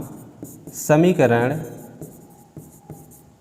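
Pen or chalk strokes of someone writing out an equation for a linear-equations lesson, with short scratchy bursts close by under a teacher's speech.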